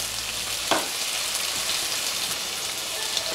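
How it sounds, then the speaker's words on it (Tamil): Green chilies sauté in a pan with oil, giving a constant close sizzle with a few sharper crackles and stirring scrapes. "அது கூட பச்சை மிளகாயும் போட்டுக்கோங்க, அப்போ தான் நல்லா வதங்கி வரும் பச்சை மிளகாய்."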